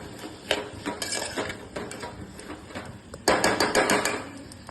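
Spoon scraping and clanking against a pan while mixing salted watermelon sabzi, irregular metallic knocks and clinks with a louder burst of rapid strikes near the end.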